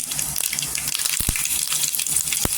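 Curry leaves hit hot oil already crackling with mustard seeds and cumin for a potato dish. A constant hiss of sizzling runs throughout, with a few sharp pops near the end.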